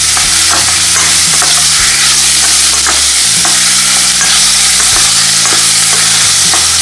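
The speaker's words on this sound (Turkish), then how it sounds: "Biraz soğanlarımı kavuracağım." Onions sauté in a generous amount of butter, a loud, close, continuous sizzle broken by repeated scrapes and knocks of a spoon stirring through the pan.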